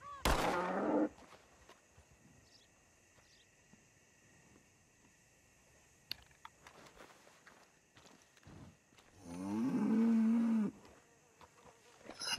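A cow moos in the video game Red Dead Redemption 2: one long, low, drawn-out moo near the end, following a brief loud burst at the start and a stretch of quiet ambient game sound.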